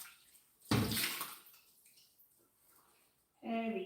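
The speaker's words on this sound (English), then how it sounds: "I need to clean this pot so that I'll put it inside." Tap water runs while a pot is rinsed and washed at a kitchen sink, starting with a loud splashing gush, settling into a softer trickle, then surging again near the end, with a voice briefly audible.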